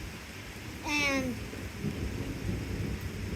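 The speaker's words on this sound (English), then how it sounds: "did you hear the thunder transition there?" Rolling thunder from a dangerously close thunderstorm, a steady low rumble with rain hiss throughout, briefly overlaid by a short rising tonal sweep near the start.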